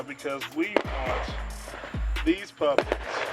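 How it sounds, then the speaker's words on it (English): Distant Fourth of July fireworks thud and pop several times in the background while someone talks outdoors beside a smoker cooking bacon-wrapped jalapeño poppers. "So if you hear fireworks in the background, it's because there's fireworks in the background."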